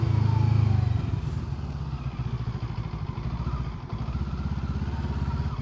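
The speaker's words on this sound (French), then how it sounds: "ce moteur, il délivre une mélodie syncopée au ralenti" Mash FR750 roadster's 750 cc parallel-twin engine idling close by with a lumpy, syncopated rhythmic chug, steady and fairly loud throughout.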